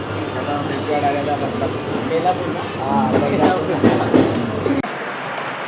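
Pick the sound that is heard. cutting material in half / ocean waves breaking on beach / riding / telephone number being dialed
riding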